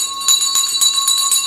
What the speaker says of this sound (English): So Celia rings the bell before supper